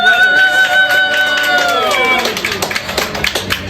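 Audience applause for a player at a live sports show: a burst of scattered, sharp claps follows a stretch of sustained tonal sound, moderately loud and close.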